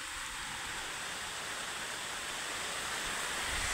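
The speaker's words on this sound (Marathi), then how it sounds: "पाऊस आलाय म्हणून मी थांबलो इथं येऊन." Heavy monsoon rain pours down in a dense, continuous, loud hiss that stays even throughout, with no voices.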